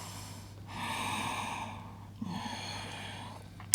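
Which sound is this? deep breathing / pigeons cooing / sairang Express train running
deep breathing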